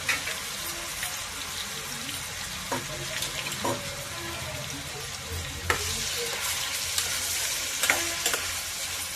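Steady crackling sizzle of eggs frying in a pan, with occasional scraping taps of a utensil stirring, no voices.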